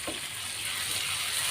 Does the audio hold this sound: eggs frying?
yes